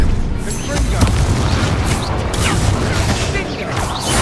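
Spells being cast in Hogwarts Legacy gameplay, with a dense, continuous barrage of booming, crackling magic blasts and impacts, loud and close, under a player's excited shouting of spell names.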